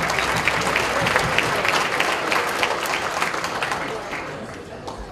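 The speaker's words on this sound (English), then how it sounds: "So let a big round of applause for Mrs. Carrie Lam." Steady, full applause from a dinner audience at the RICS Hong Kong annual dinner, dense clapping held at an even level throughout before easing slightly at the end.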